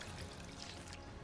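Water runs from a working sink in an airport operations base men's restroom, a steady close pouring trickle with no talk.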